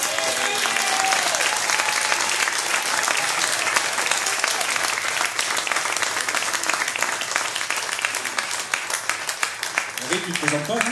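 Loud, sustained audience applause at a concert tribute show in Capinghem, northern France, filling the hall steadily for the full stretch with crowd noise under it.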